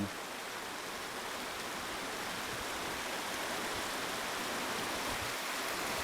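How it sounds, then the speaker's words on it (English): A mountain waterfall in Switzerland roars as a constant, even wash of rushing water, heard from a hiking trail, with no voices over it. "We've got new scenery and another waterfall."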